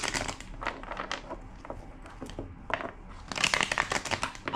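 Tarot cards being shuffled by hand: soft riffling and rustling in short bursts, close and quiet, with a louder flurry near the end.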